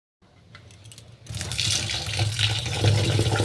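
Parboiled rice and lentils washed together in water, a steady close splashing and running-water wash that starts softly and grows louder and fuller after about a second, continuing without speech.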